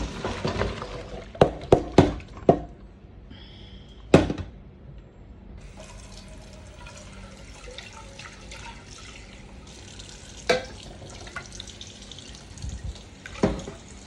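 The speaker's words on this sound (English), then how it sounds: "rinse it with water, with cold water, so that it will stop the cooking process." Cooked tapioca being rinsed under a cold kitchen tap, with running water and splashing in a sink, broken by several sharp clatters near the start and a few later knocks.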